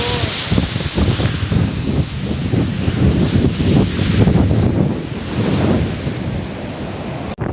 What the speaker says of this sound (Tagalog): Tapos yung alon, ang lalaki. Grabe yung alon.